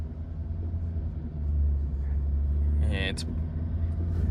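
A truck's engine rumbles low and loud while it strains to pull out of slimy mud, with a deep sustained drone that swells midway and a brief higher whine near the end.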